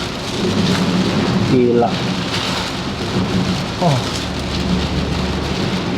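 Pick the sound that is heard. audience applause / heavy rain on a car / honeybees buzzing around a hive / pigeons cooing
heavy rain on a car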